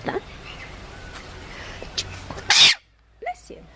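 A baby animal lets out a sharp, loud sneeze, preceded by faint sniffles and small sounds, with a brief pause and a softer noise after.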